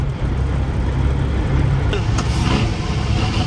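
A Kuhnle Bros semi truck engine with a turbo from Zach Newton building boost, a loud, dense, steady drone with a high turbo whine riding over it, voices faint underneath.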